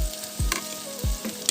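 Onions frying in hot oil for a duck curry, a steady close sizzle broken by a few low thumps and clanks as the pan is stirred.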